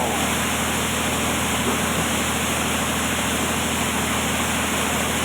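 Steady, dense roar of water gushing from a borewell, loud and unbroken from start to finish, like a powerful stream pouring out.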